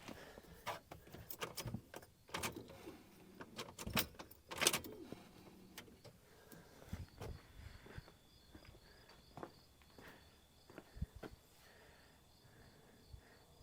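Truck ignition keys jangle and click as they are cycled several times on a pickup during a fuel pressure check, close sharp metallic rattles, then quieter clicks over a faint steady chime-like tone.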